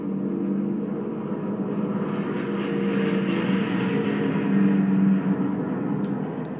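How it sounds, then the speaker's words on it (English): A steady video-game propeller-plane engine drone with a low hum, continuous and fairly loud, swelling slightly near the end, with no talking. "Shoot down an aeroplane."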